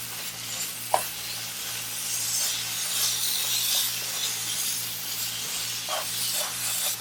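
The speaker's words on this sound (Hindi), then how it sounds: "अच्छी तरह से भूनेंगे।" Grated carrot mixture for gajar barfi roasting in desi ghee, a steady close sizzle and hiss with occasional spoon scrapes and clicks against the pan, no voices.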